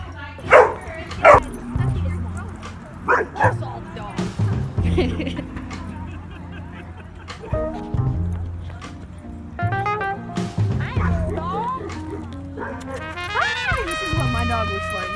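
A pack of young dogs playing close by, with sharp barks and high yips coming in irregular bursts, along with whimpers and squeaky whines. A person talks gently over them at intervals.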